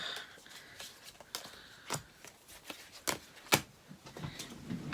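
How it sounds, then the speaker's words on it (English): Tarot cards are shuffled by hand during a card reading, giving a quick run of papery riffles and soft slaps with several sharper snaps, close and fairly quiet with no talking. "We're going to shuffle these properly."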